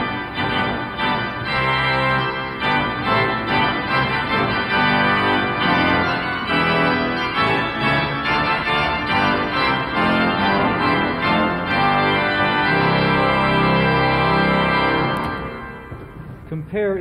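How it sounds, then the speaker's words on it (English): Loud, dense pipe organ chorus from a 1972 Schlicker organ, using only reed and mixture stops, sustaining bright, intense chords for about fifteen seconds before the sound cuts off. "extremely interesting chorus, made up of only the reed and mixture stops in the organ"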